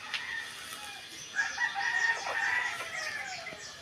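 A rooster crows in an outdoor Filipino backyard garden setting, a drawn-out crow rising and falling over about two seconds at moderate distance, with faint background ambience and no talking.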